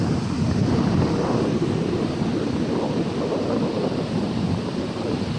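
Big ocean waves crash and churn in a steady, loud roar of surf, with gusting wind buffeting the microphone throughout and no voices.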